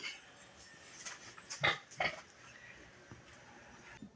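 A five-month-old pet pig, a young sow, gives a few short, soft grunts and snorts at close range amid quiet rustling, with faint background noise and no talk.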